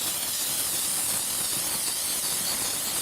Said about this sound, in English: just use your steam